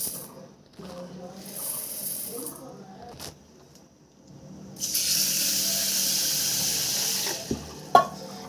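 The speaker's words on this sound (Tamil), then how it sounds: "இப்போ தண்ணி சேர்த்து ஒரு 2-3 முறை நல்லா இந்த மாதிரி கழுவி சுத்தம் பண்ணி எடுத்துக்கலாங்க" Water splashes and swishes as pearl millet (kambu) is washed in a vessel, coming in bursts with quieter gaps between, a longer rushing stretch midway, and a couple of sharp clinks near the end.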